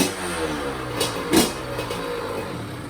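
A cold two-stroke engine kick-started with the choke on, running at a steady close idle with a slight rise in revs partway through.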